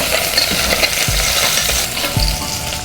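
Ginger and garlic frying in a pan for a tomato chicken dish give a loud, close, continuous sizzle, with a few dull stirring knocks and scrapes of the utensil and no speech.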